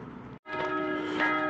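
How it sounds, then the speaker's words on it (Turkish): Church bells ring out continuously from a church near an old unrestored fortress with city walls, several tones sustaining and overlapping in steady, moderately loud peals after a brief break in the sound. "Çanlar çalmaya başladı gene kilisenin."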